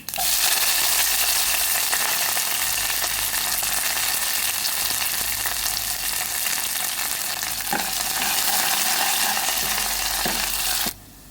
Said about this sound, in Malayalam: കടുക് പൊട്ടി വരുമ്പോൾ നമ്മൾ അരിഞ്ഞ് വെച്ചിരിക്കുന്ന കൊച്ചുള്ളിയും അതുപോലെ തന്നെ കറിവേപ്പിലയും വറ്റൽമുളകും ഒക്കെ അങ്ങോട്ട് ഇട്ട് കൊടുക്കാം